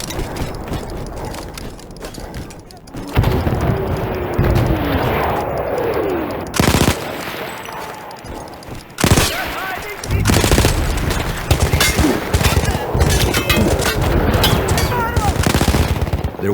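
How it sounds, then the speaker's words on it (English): Artillery shelling and gunfire in the Battlefield 1 campaign, with loud booming blasts and rapid bursts of shots recurring throughout, mixed with battlefield noise and occasional voices. "There was an artillery gun that was shelling us and Matteo's unit."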